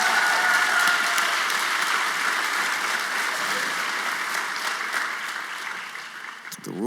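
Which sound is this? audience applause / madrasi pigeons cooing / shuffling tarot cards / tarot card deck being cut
audience applause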